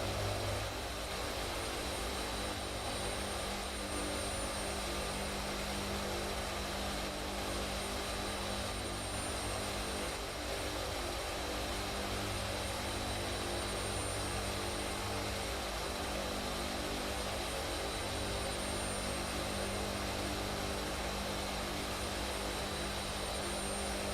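A C-130 Hercules nicknamed the Dirty 30 drones in Flight Simulator, its engines giving a steady, unbroken roar and hum at an even level with no one talking.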